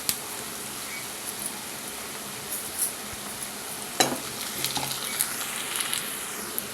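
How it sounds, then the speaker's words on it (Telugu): Curry leaves go into onions already frying in a pan for chicken curry. A steady sizzle runs throughout, with a sharp crackling burst midway and scattered light pops and scrapes after it. "ఉల్లిపాయలు బాగా వేగాయి ఇప్పుడు దీనిలో కరివేపాకు వేస్తాం"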